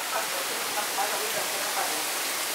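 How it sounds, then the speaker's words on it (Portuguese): Heavy rain pouring down outside a hotel in Florence, Italy, a dense, loud, continuous hiss of downpour that fills the scene, with a voice speaking briefly underneath. "Olha isso, gente. Ui! uma chuva surreal."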